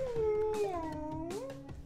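A person imitates a cat's meow with the voice, producing a drawn-out, wavering, nasal mew followed by a second rising-and-falling meow, close and fairly loud, with no other talk.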